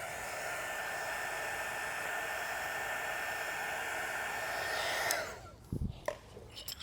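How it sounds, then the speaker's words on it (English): A heat gun blows a steady, loud hiss while warming a Tesla car emblem, running for about five seconds before switching off and winding down, leaving a few faint clicks and handling noises. "Again, about 4 to 6 passes with this heat gun."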